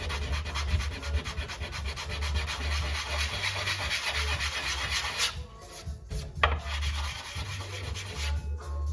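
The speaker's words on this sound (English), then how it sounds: "But that's just a block of sanding paper. Rough side first, of course." Continuous rasping strokes of a sandpaper block rubbed by hand over a model train layout piece, rough side first, steady and close, with a brief pause and a few sharper scrapes near the end.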